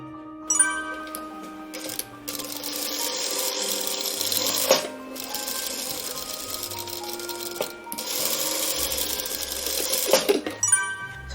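A sewing machine stitches a fabric wine pouch in long steady runs of rapid mechanical whirring, pausing briefly between seams with small clicks and knocks, loud and close.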